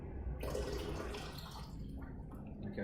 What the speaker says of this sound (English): We'll fill the rest of this bottle up.